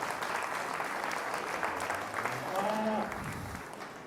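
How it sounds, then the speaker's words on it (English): Audience at a 2019 beef cattle show claps in a steady round of applause lasting the whole stretch, fairly distant and even, with some faint talk and tonal sounds mixed in near the end. "if we can first have everyone give a big round of applause"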